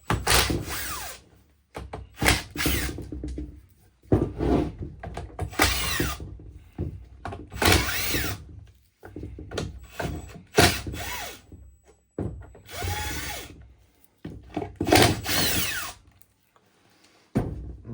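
Cordless power screwdriver or drill backing out T20 case screws from a Milwaukee M28 bandsaw housing, a series of short whirring bursts of a second or two each, separated by brief pauses, close and fairly loud.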